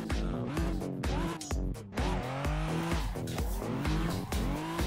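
Drifting car in a racing video game played on a direct drive wheel: a loud, continuous engine note rises and falls with repeated gear shifts, while tire squeal streaks across it for the whole stretch.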